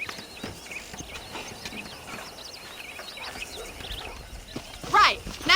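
Horses in Red Dead Redemption walking with steady clip-clopping hooves on the ground, birds chirping in the background, and a person talking over the sounds.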